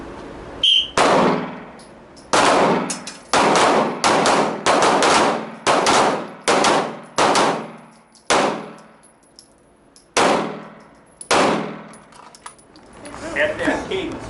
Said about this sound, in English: So 5 rounds at a 1 second split on the whistle.